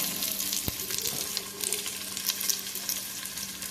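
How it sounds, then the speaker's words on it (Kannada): Onions fry with salt in a clay pot for Mangalore-style chicken pulimunchi, a constant close sizzle with a single sharp knock and occasional crackles, no voices. "ಈರುಳ್ಳಿ ಚೆನ್ನಾಗಿ ಫ್ರೈ ಆಗಬೇಕು"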